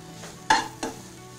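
Chicken sautéing in a pan gives two short stirring scrapes over a low background sizzle, a quiet, close kitchen sound with no voices.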